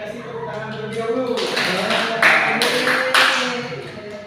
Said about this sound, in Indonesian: boleh kasih tepuk tangan terlebih dahulu